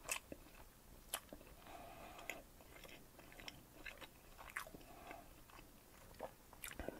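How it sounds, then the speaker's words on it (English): Chewing right against a microphone while tasting a bourbon barrel aged imperial stout and hot sauce, with close, wet bites and crunchy mouth noises in an uneven rhythm, fairly quiet and with no talking. "try not to sound so obnoxious as I'm chewing"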